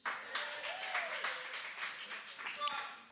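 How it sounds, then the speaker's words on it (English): A church congregation breaks into loud applause, a dense wash of clapping that fills the room for several seconds while a voice speaks over it. "Thunderous applause for all of you for eating so many donuts."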